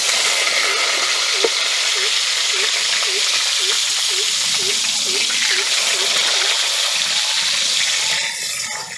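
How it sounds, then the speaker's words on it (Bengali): Eggplant pieces frying in hot oil for an eggplant-and-poppy-seed dish give a steady, close sizzle that runs the whole time, with small repeated bubbling pops, then ease off near the end. "বেগুনগুলো সুন্দর করে আমি তেল দিয়ে ভেজে নিয়েছি"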